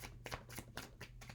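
Tarot cards are shuffled softly up close, a faint run of quick, rhythmic riffling strokes.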